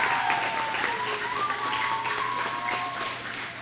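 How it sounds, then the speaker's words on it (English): Steady applause from a crowd at an elementary school ribbon-cutting ceremony, continuous clapping that fills the whole stretch at a fairly even level, with a faint tone running underneath. "a round of applause"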